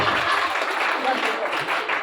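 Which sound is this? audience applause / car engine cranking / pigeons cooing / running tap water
audience applause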